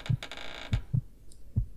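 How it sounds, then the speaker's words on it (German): A heartbeat sound effect from the video game Resident Evil Code Veronica X: deep, muffled low thumps in paired beats, repeating steadily and close, with no talk. "Es ist ja wieder ein Herzschlag"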